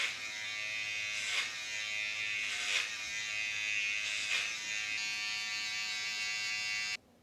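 Electric hair clippers buzz steadily and close up during a haircut, with a few brief swells in pitch as they move through hair, running alone for about seven seconds before switching off.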